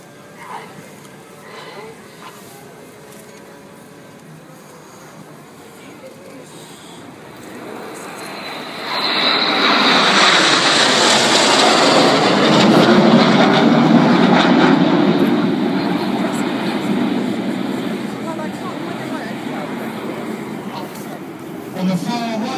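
RAF Red Arrows jets fly in Lancaster formation at a Silverstone air display. A distant aircraft roar swells into a loud, broad jet rush overhead, then slowly fades, under a commentator's voice.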